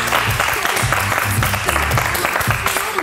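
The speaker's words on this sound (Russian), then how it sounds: "Аплодисменты Вове." A studio audience at a stand-up versus KVN comedy show claps in a brisk, steady round of applause, close and continuous.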